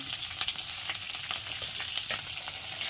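Lentils, ginger and green chillies frying in hot oil for upma give a steady, close, dense crackling sizzle, with a few sharper pops and light stirring ticks and no voices.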